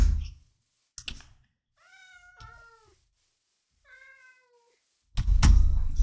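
Cat meows from a Minecraft game, three or four clear, tonal mews in a row, with knocks and thumps at the start and a loud burst of noise at the end.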